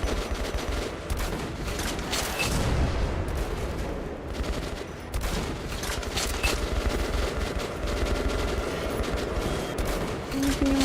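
Rapid gunfire from a tank in the game Metro: Last Light Redux comes as loud, sustained bursts of cracking shots with short breaks between volleys, dense and close throughout.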